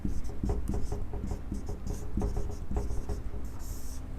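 A word written by hand on a board or paper, with quick scratchy pen strokes in short bursts close to the listener. No one speaks.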